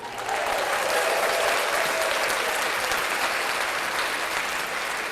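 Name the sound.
hands clapping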